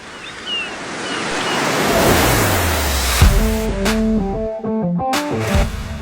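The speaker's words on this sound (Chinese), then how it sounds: "就搜不同的海浪声，多下几个" Ocean surf washes and swells in a broad, roaring rush that builds over the first few seconds, then abruptly gives way to unrelated tonal, engine-like sound effects.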